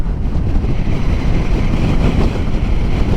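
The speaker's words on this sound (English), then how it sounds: "All I can hear is the wind on my helmet." Wind roaring over a motorcycle helmet while riding an electric Zero motorcycle, a loud, constant low rumble of buffeting with no other sounds.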